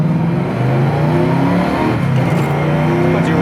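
A 1970 Mercury Cougar XR7 engine revs loudly and steadily as the car accelerates, with a deep, continuous roar heard from inside the cabin.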